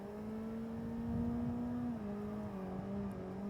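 A car engine droning steadily at high revs while drifting in the Assetto Corsa racing simulator, the pitch holding, swelling slightly, then dipping and settling as the throttle is worked; a continuous, moderately loud mechanical hum without speech.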